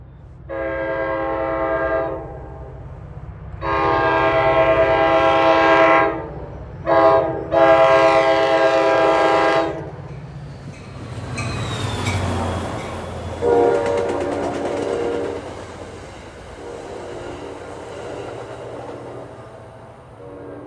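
An NJ Transit diesel train approaches, sounding a loud harmonic horn in several long blasts, with rumbling engine and wheel noise building beneath and a quieter horn note at the end.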